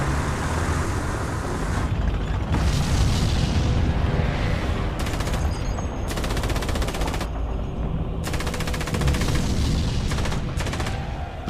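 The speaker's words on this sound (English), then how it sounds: "The powerful Russian tanks, the T-34s, are quick to retaliate." T-34 tanks firing during a Second World War battle on the Eastern Front: dense, continuous rattling bursts of machine-gun fire and heavy booms, loud and sustained throughout, with no talk.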